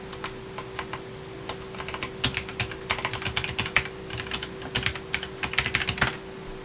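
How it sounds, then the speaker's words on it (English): Typing on a typewriter-style mechanical keyboard: quick, fairly quiet key clicks in uneven bursts over a steady electrical hum. "Typewriter mechanical keyboard."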